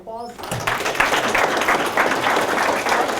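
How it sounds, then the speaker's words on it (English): An audience at a real estate seminar applauds, a steady dense clapping that starts right after a brief bit of voice and carries on at an even, fairly loud level to the end. "Give a round of applause."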